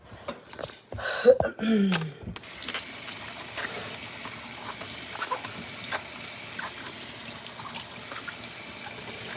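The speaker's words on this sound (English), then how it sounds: "So I'm going to give this a quick rinse." Food is rinsed under a running kitchen tap while making chicken caldo, a steady close water stream hissing into the sink for most of the clip after a few brief handling clatters and a short voice at the start.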